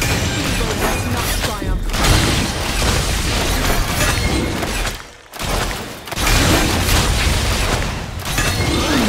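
Loud blasts and crashing debris as an enemy turret is destroyed in Wild Rift, dense game effects with a brief drop before the noise resumes.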